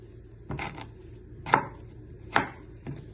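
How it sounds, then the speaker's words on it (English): A knife slices a small piece of ginger thinly on a chopping board, four crisp, separate cuts landing at an unhurried pace, close and with no talking. "Then you want to slice it really thinly."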